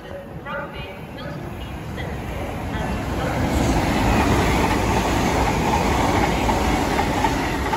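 A passenger train on the London Euston to Crewe service rumbles through Stafford station, a broad steady roar that swells and stays loud, with someone talking over it.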